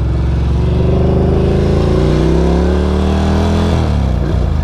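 A Ducati Scrambler motorcycle runs loud and close, its engine and muffler exhaust giving a steady, throaty drone with shifting engine tones that rise and then fall away near the end.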